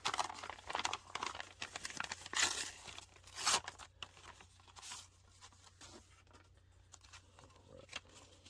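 An envelope torn open by hand, with a series of sharp ripping and crinkling bursts of paper, close and fairly quiet, trailing off into lighter rustling.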